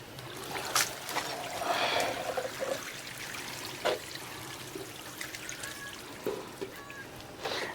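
Water poured onto a mud interlock brick wall during house construction, trickling and splashing quietly in short bursts, faint and fairly close, with no one speaking.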